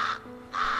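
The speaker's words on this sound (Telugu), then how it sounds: "ఒక కాకి దాహంతో గాల్లో తిరుగుతోంది" A crow in an animated story about a thirsty crow in scorching summer heat gives two harsh, close caws in quick succession, loud and alone.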